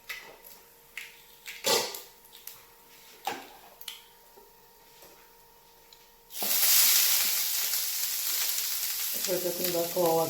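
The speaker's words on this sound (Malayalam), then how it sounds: "തേങ്ങ വറുത്തുകൊണ്ടിരിക്കുകയാണ്." Grated coconut roasting in a pan for a cauliflower and potato curry: scattered quiet taps and clicks first, then a sudden loud, steady close sizzle that continues to the end.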